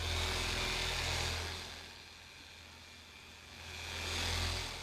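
A car polisher fitted with a Rupes yellow pad and Sonax Cut Max compound works on the wing of a VW Passat GTE during paint correction, giving a steady motor whir that eases off midway and then rises again.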